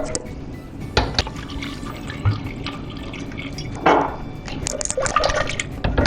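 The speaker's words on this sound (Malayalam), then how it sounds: "എന്നിട്ട് അതിലേക്ക് വെള്ളം ഒഴിച്ചു കൊടുക്കുക" Water pours and splashes into a pot of tapioca in a few uneven bursts, close by, with soft dripping between pours and no talking.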